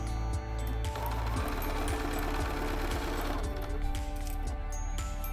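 A Bernina sewing machine runs steadily, chain piecing and back stitching fabric, its motor a constant close drone with a rapid rhythmic needle pulse and no pauses.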